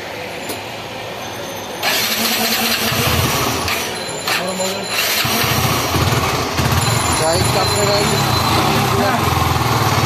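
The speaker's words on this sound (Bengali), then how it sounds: "এখন বাইকের ইঞ্জিনের সাউন্ডগুলো দেখেন, খুবই সুন্দর, খুবই চমৎকার" A repaired motorcycle engine starts with a burst and then runs steadily and loudly close by, a rough continuous mechanical roar that fills the whole stretch.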